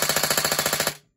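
A battery-powered airsoft AEG on a 7.4 V battery with an 18K motor fires a rapid, even string of about fourteen mechanical cycles, loud and close, then stops abruptly; no one speaks.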